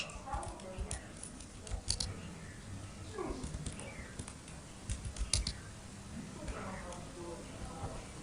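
Keys tapped on a computer keyboard in an irregular run of soft clicks up close, with brief pauses, under quiet background and some low talking.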